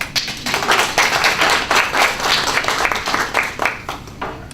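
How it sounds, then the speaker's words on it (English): Audience applause at a diversity and inclusion week event, a room of people clapping steadily and fairly close for a few seconds, with no talking over it. "Let's give them a round of applause."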